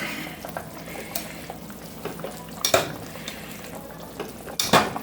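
Pork rib pieces cook in a pot for a Jamaican stew, giving a soft steady simmer with occasional sharp metallic scrapes and clinks of a utensil against the pot, two louder knocks standing out near the end.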